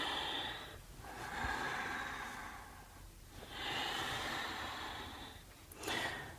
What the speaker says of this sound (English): Inhaling and exhaling.